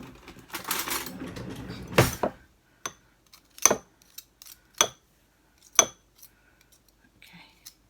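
A knife and cutlery clink against dishes in a kitchen while a plant-based breakfast is made: a few sharp, isolated metallic taps spaced about a second apart follow a brief burst of rustling and handling noise.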